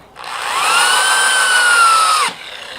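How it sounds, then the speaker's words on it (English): A power drill drives a screw into wood while a landscaping square is assembled, giving one loud, steady whine of about two seconds that rises in pitch, holds, then drops as the screw seats. "we can just secure that with 4 screws"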